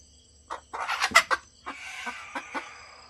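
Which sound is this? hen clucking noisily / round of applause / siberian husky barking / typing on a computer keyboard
hen clucking noisily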